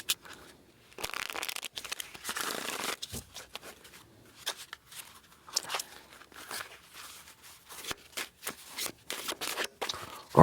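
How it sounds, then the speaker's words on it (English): A tarot card deck being shuffled by hand, with repeated riffles and slaps in irregular bursts separated by short pauses, close and fairly loud, with no talking. "Shuffle and cleanse the energy here"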